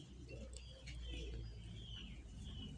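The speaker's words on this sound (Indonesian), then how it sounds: "Suara burung." A dove or pigeon coos softly in a repeated low rhythm against a steady indoor hum. Faint high chirps come through, and no one speaks.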